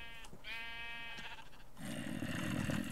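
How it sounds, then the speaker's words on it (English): Sheep bleat in Minecraft, a run of several clear, harmonic game-animal cries close up, followed by a louder, denser burst of bleating from the flock. "I don't want him pushing my sheep in there."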